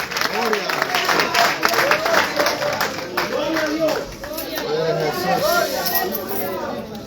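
A church congregation claps continuously in a busy, sustained round of applause while voices talk and call out over it.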